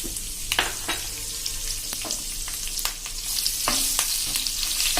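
Lengthwise-cut green chili strips and ginger frying in oil in a pan, a close, steady sizzle broken by scraping stirs and clicks of a spatula, growing a little louder and brighter toward the end, with no talk.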